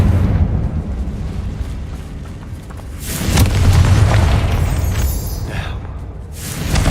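A Confringo blasting spell explodes in Hogwarts Legacy, a booming burst that swells to a broad roar and fades, followed by a second rising blast at the end.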